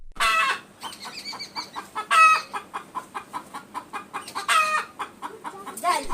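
A rooster crows loudly several times, close by, with repeated clucking between the crows.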